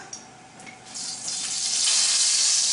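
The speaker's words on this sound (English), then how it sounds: "Ah, listen to that sizzle." Food sizzles in a hot frying pan, the hiss swelling louder and steadier over a few seconds with no one talking.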